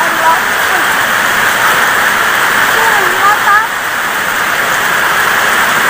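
Dense, loud rain pours continuously, a steady hiss of heavy downpour causing flooding, with faint voices buried underneath.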